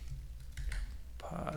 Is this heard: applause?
no